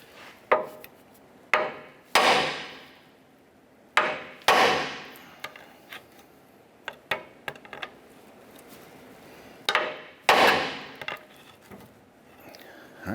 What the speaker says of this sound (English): we're going to use a hammer. We're going to strike our knuckle here to release our lower ball joint.